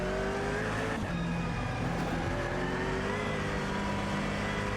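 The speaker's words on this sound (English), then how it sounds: "there go the two Ligier DPIs, which are in a battle with one of the JDC Miller Motorsport cars here" Ligier DPi prototype race cars in the Automobilista 2 sim at Daytona, IMSA 2019, roaring past at around 270 kph in a close battle; loud steady engine drone with rising pitch sweeps as cars pass, no talking.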